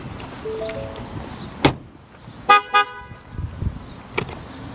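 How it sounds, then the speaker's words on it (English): A 2015 Ford Fusion Energi Titanium sounds two short, loud horn toots in quick succession after a door thump, set against quiet outdoor background, warning that the key is still on as the driver walks away. "Every time you get out of the car with the key in your pocket and it's still on, it honks."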